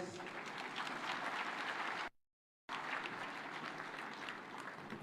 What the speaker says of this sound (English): Another super applause for our host, Sana Governor Wanga.